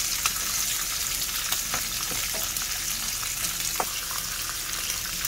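Beef short ribs searing in a hot pan for braising, making a loud, steady sizzle with scattered crackles and pops and no talking.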